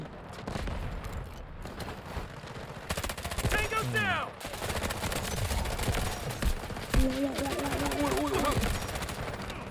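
Dense, rapid gunfire from an enemy bot in the shooter game Delta Force, with bursts crackling almost nonstop near and loud, while a player's voice talks over parts of it.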